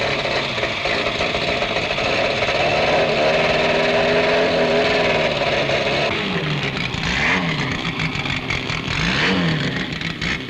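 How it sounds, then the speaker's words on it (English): Cold 1970s race car engines with choked carburetors sputter and idle roughly in a misty autocross paddock; several overlapping motors rumble steadily, with a few rising blips toward the end. "the misty surrounds are thickened by cold engines, voicing their disapproval as carburetors are choked into action"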